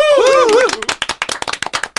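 A few people in a small studio clap to send off two podcast guests, sparse sharp close claps with an uneven rhythm, following a brief bit of sung or drawn-out voice at the start.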